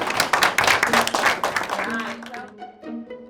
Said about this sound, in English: Can we give this group a round of applause